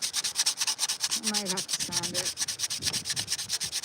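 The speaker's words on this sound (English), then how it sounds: "I might have to sand it." Wooden stump for an epoxy resin table being sanded, with a steady rhythmic rasping stroke repeating over and over, close and fairly loud, and a brief tonal squeak partway through.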